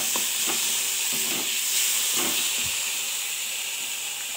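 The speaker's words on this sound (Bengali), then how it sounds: "কষাবো এটা" Chickpeas and paneer with fried onions sauté in a pan for ghugni, giving a continuous hissing sizzle with soft scraping knocks from stirring.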